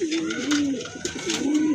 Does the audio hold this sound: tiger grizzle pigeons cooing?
yes